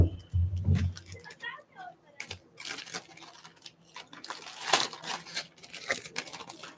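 A plastic bag crinkles and rustles in sharp bursts as tarot cards are unpacked from it, close by, with a voice speaking between the crackles.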